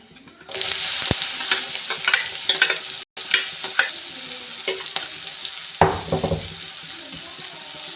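Okra fries in oil with curry leaves, mustard seeds and fenugreek, giving a close, continuous sizzle with frequent spatula stirs and clinks against the pan and one brief dropout near the middle.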